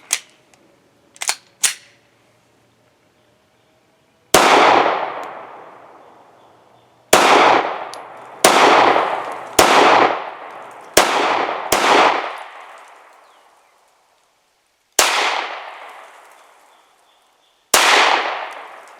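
Glock 19X pistol fired at an outdoor range: a string of sharp, loud individual shots with irregular spacing, each ringing out with a decaying echo, preceded by a few quieter mechanical clicks.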